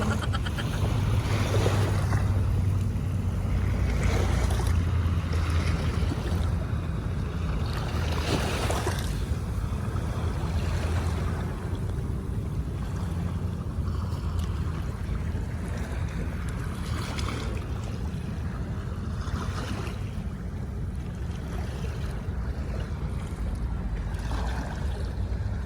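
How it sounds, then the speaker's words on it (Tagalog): Sea waves wash onto the shore of Manila Bay's Dolomite Beach, a continuous rushing surge with wind noise, close by and steady, with swells that rise and fall over the stretch. "Parang ayaw ng alon sa akin."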